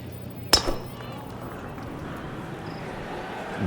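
A single sharp crack of a golf club striking the ball at a professional tournament, followed by faint outdoor ambience.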